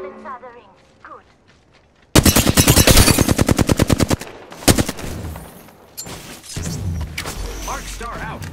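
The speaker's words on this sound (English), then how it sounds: "I'm taking fire, friends." Gunfire in the battle royale game Apex Legends: a fast, loud automatic burst of evenly spaced shots after a quieter start, then scattered single shots and impacts, with a voice speaking around the firing.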